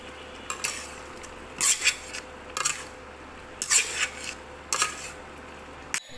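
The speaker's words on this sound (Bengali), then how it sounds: "চর্বির সঙ্গে কিছু মাংস দিয়েছি এটা একটু কষিয়ে নিয়ে" Meat and fat sauté in a pan while a utensil scrapes and stirs in five or six distinct bursts over a low hiss of frying.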